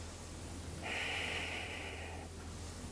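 A single deep, breathy exhale during an arm-balance yoga class, long and steady, close to the microphone over a low background hum.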